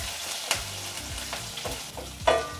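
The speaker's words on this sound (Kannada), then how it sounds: "ಈಗ ಇದನ್ನೆಲ್ಲ ಒಂದು 30 ಸೆಕೆಂಡು ಫ್ರೈ ಮಾಡ್ಕೊಳ್ಳೋಣ." Crushed garlic and broken Guntur chillies fry in hot oil for tamarind rasam, sizzling steadily up close with a few sharp crackles and the scrape of stirring.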